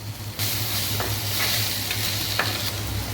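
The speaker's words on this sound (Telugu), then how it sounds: "ఇలా కలుపుకొని 20 నిమిషాలు మీడియం మంట మీద ఉడికియాలి" A spoon stirs a spiced curry of raw mango, purslane and tomato in a pan, scraping and knocking a few times over a continuous close sizzle, with no talking.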